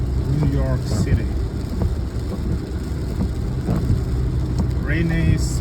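A car drives through New York City on a rainy Saturday morning, with a steady wash of road and rain noise and a low engine hum. Voices talk over it throughout.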